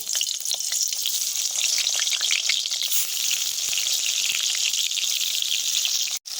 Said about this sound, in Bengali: এবার হলুদ লবণ মাখানো বেগুনের টুকরোগুলোকে ভেজে নেব।